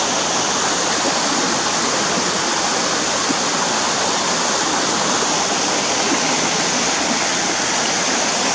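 Water pours steadily into a clear pool in a state park, a close, loud and unbroken rush of white noise.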